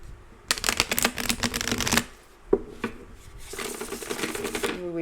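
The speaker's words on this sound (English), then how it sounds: "I will shuffle" A deck of playing cards is shuffled up close, with a rapid riffling flutter, a pause with a couple of taps, then another stretch of riffling.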